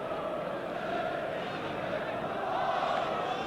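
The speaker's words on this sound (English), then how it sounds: "At least it gave the Norwich fans massed behind that goal something to cheer about." Norwich football fans packed behind the goal at a 1988-89 match against Arsenal fill the air with a broad, sustained roar of cheering, swelling slightly toward the end beneath commentary.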